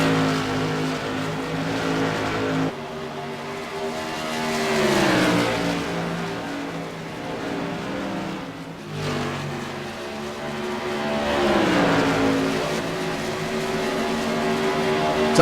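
Modified race cars at Rockingham Speedway roar past with loud engines whose pitch rises and falls in sweeping waves as cars approach and pass, in a continuous dense race sound with no voices.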